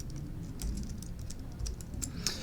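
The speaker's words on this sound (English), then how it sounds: "I'm trying to hit tab and it's not auto-completing" Light, quick clicking of a computer keyboard while typing commands in a terminal, faint and close, with scattered key taps and no talking.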